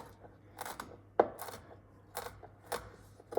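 Sliced almonds and pine nuts are coarsely crushed with a series of sharp crunching chops, spaced irregularly against a quiet background, with no talking.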